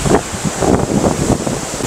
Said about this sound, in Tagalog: Currently ay napakalakas po ng hangin natin.